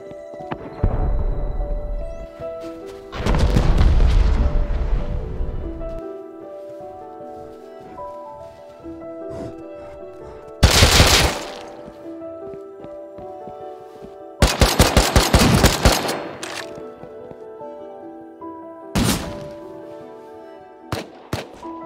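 Gunfire in the survival game Rust comes from behind a wall in several separate bursts: a heavy low rumble early on, then sharp bright volleys around the middle and a rapid automatic string, with single shots spaced between them. There is no talking.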